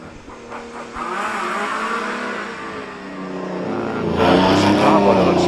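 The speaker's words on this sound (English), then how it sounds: "that Lancia Aurelia powered machine 240" A Lancia Aurelia-powered hillclimb race car climbs at Prescott during a British Hillclimb Championship event, its engine revving and rising in pitch as it accelerates and draws nearer, growing louder toward the end, with a commentator talking over it.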